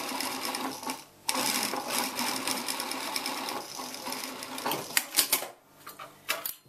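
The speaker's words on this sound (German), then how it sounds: "genau da steppe ich jetzt auf dem Beleg quasi unten drunter die Naht fest" Sewing machine stitching a seam down on a dress facing, running in steady rattling bursts with brief pauses and stops near the end, close and clear with no talk.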